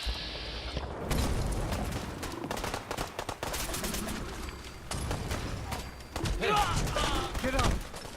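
Gunfire crackles during a Gulper creature attack in the foggy Far Harbor area of Fallout 4, with rapid, fairly loud shots amid battle noise and shouting voices.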